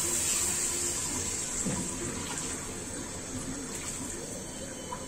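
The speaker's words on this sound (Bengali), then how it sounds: "গরম পানি দিয়ে দিচ্ছে।" Hot water is poured into a pot of chicken curry, giving a steady gushing splash close up that eases slightly toward the end.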